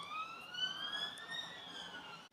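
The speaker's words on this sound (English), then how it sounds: "police car maybe." A police car siren wails steadily as it passes along a road, its rising and falling tone fairly distant and faint, heard alone without talk.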